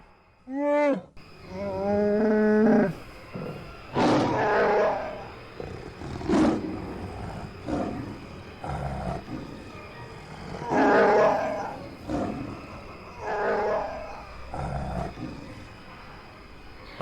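Deep Wookiee growls and roars from the Kashyyyk section of the Star Wars game Knights of the Old Republic, coming in repeated loud bursts over a steady ambient bed of game sound, with no talking.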